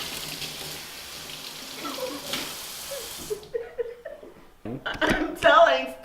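A faucet running as someone washes their hands gives a steady hiss of water for a few seconds before it shuts off, and voices and laughter follow nearby.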